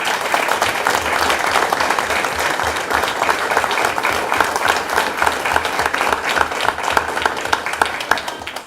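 A Board of Education meeting audience applauds three students, a continuous, full wash of many hands clapping at steady volume throughout, with no voices on top.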